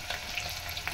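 Garlic frying in a pan gives a faint, steady sizzle with small crackles, heard close and quiet with no voices.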